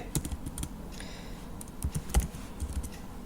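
Keys clatter on a computer keyboard as a pip install command is typed, a few light irregular taps and short bursts close by with no talking.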